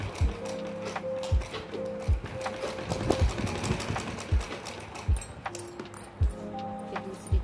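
A sewing machine stitches a sleeve onto buckram in short, rhythmic bursts of mechanical whirring and clatter, with brief pauses between runs and a voice talking over it.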